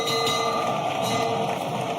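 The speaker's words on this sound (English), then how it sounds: "And there goes the bell." A boxing ring bell ends a round at a Ghana professional boxing league bout, ringing as a sustained metallic tone over loud, continuous arena noise.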